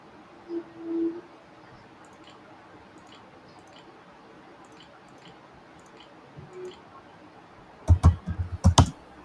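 Several quick keyboard clicks arrive in a short flurry near the end, after a long stretch of near silence with faint soft noises.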